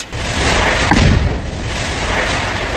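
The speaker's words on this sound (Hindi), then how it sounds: "इस तरह घर को उड़ाने के बाद जोरदार धमाका हुआ" A house in Jammu and Kashmir is blown up, a loud explosion with a deep boom at about one second and a sustained rumbling roar of debris that carries on to the end.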